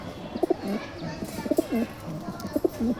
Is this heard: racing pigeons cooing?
yes